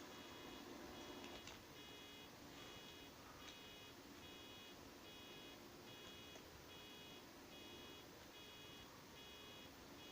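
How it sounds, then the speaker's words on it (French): A faint, regular electronic beeping from a baler in Farming Simulator 17, signalling a bale is nearly done, repeats about every second under steady machine drone, quiet and mechanical. "le bip que vous entendez, c'est que on va bientôt faire une botte"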